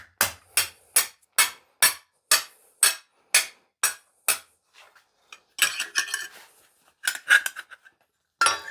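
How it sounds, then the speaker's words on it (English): Steady, evenly spaced hammer blows ring out on metal over an anvil's hardy hole, about a dozen sharp clangs, followed by a looser cluster of irregular knocks and clinks. "I'm going to go over to my hardy hole, and I'm actually going to hammer this in"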